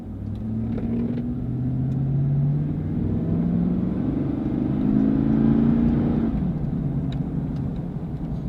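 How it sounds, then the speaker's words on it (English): A Chevy Silverado pickup truck with about 145,000 miles pulls uphill, its engine rumbling inside the cab with rising and falling drone as it accelerates and shifts gears, and no talk. "let's take it for a spin, see how it shifts. Trying to go uphill."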